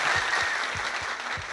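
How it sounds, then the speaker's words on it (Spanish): An audience claps in steady applause at a baseball tribute, a dense patter of hands at moderate loudness, with no voice over it. "Aplausos para Vladimir Guerrero Sr."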